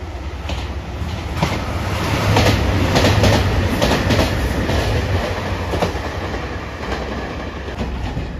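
A JR Shikoku 2700 series limited express diesel train passes close by, a loud, steady roar with rhythmic clickety-clack of wheels over rail joints that swells in the middle and then eases slightly.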